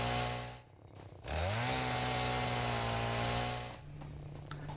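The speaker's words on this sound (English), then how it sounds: "Apparently you can chainsaw it down." A chainsaw in a survival factory video game revs up loudly and holds a steady droning whine while cutting down a big tree, then drops back toward idle.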